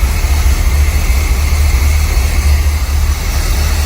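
A 1975 Chevy C3 Corvette, running after 15 years, idles steadily as a loud, constant low engine rumble with hiss over it, heard close up with no voices.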